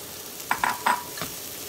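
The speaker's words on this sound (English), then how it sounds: "Just give it a quick stir" Ground cauliflower rice stirred in a hot pan, a few quick scraping swishes of the spoon over a soft sizzle, faint and close with no talking.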